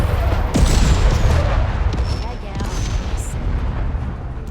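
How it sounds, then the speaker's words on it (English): Rockets fire and burst in a tactical strategy video game, a dense rumbling barrage of booms and blasts that stays loud and continuous throughout, with a few sharper cracks rising over the roar. "There goes those rockets."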